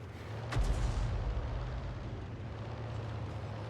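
An M53/M55 self-propelled gun in a tank video game fires one artillery shell, a single sharp boom followed by a long low rumble that fades slowly.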